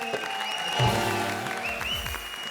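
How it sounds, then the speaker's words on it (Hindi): Studio audience at a Hindi comedy show breaks into applause, a steady wash of clapping that swells briefly near the start and continues at moderate level throughout, with faint background tones beneath. "जोरदार तालियां"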